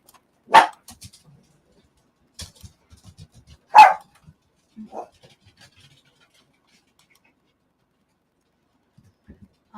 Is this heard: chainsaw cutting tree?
no